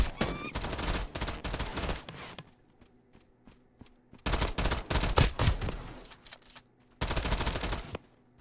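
Rapid bursts of gunfire from Escape From Duckov crackle in clustered volleys with short quiet gaps, loud and close, a faint voice talking between the bursts.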